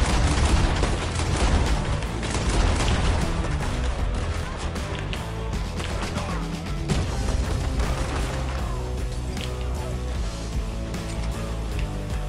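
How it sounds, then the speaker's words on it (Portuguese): Dynamite explosions and gunfire in a Red Dead Redemption 2 Online shootout, a loud dense barrage of booms and shots that stays busy throughout with rumbling blasts. "Pode sobreviver a meus tiros, né? Mas a minha dinamite você não sobrevive."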